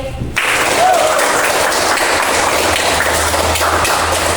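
Classroom applause from a group of students, a sudden burst of clapping that starts after a brief pause and holds steady and loud to the end.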